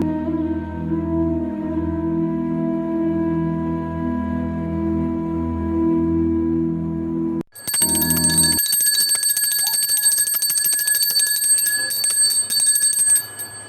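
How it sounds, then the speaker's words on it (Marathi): A handheld puja bell is rung during evening worship at home where incense burns. A steady tonal hum cuts off, then the bell rings rapidly and repeatedly, bright and close, for several seconds. "मी जसं घंटा वाजवते"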